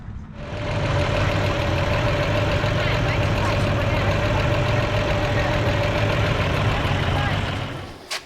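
A Toyota FJ60 with a swapped-in 6-liter GM engine starts up and runs steadily for several seconds, a loud, close, rumbling idle with a faint whine on top, before cutting off abruptly.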